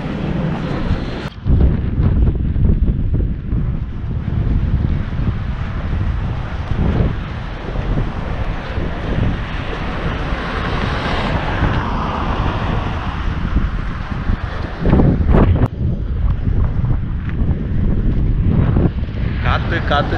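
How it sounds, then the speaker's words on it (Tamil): Loud, gusty wind roaring and buffeting the microphone nonstop near Nagercoil, Tamil Nadu, with a few sharp thumps and a voice speaking faintly beneath it. "காற்று ஒரே காற்று தான் அடிக்குது."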